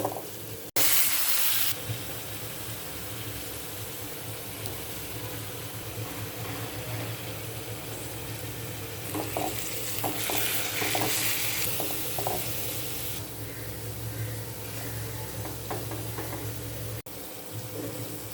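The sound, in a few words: frying greens with dried chilies in a pan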